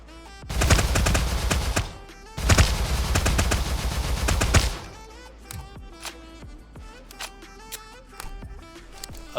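Energy rifle firing in a multiplayer first-person shooter: two loud sustained bursts of rapid automatic fire, each lasting about two seconds, followed by scattered sharp single shots and clicks at lower volume.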